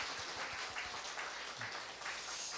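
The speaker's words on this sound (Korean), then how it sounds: "박수 한번 치고 시작할까요?" A church congregation at a prayer school session claps together for a couple of seconds, a dense, even wash of applause heard from a distance and fairly faint, with no voices over it.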